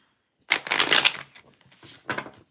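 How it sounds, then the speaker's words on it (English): A tarot deck gets shuffled by hand in a quiet room: a brisk riffle burst of card noise, a short softer patter, then a second crisp burst near the end. "That wasn't a good shuffle."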